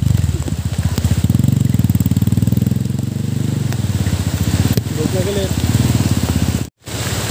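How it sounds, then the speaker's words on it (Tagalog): Heavy rain pours down around a food-delivery rider's motorcycle, a constant loud hiss layered over a low, throbbing engine rumble that runs nearly the whole time, with a brief dropout near the end. "Grabe, lakas ng ulan, galit na galit."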